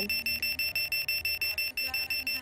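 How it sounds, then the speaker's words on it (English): An alarm in a Roblox Bloxburg house beeps in a fast, steady repeating pattern of high electronic tones, loud and continuous, with game music or a radio playing underneath. "the alarm is going off"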